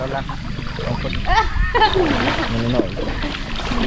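Water splashes and sloshes in short irregular bursts as a woman bathes the traditional way in a flowing stream, with voices talking over the splashing throughout.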